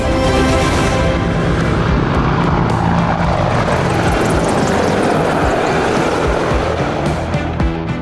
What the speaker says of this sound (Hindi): इसमें एक लाइट कॉम्बैट हेलीकॉप्टर, 2 अपाचे और 2 एडवांस्ड लाइट हेलीकॉप्टर जोश और जुनून को चरम पर ले जाएंगे